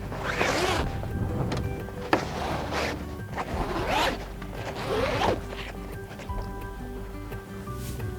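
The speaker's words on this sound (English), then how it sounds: "undo the zippers as I pull the sock down" Zippers on a sailboat jib sock being pulled open in several long rasping strokes, with a sharp click near two seconds and rustling fabric between pulls, close and fairly loud, on an RS Quest dinghy.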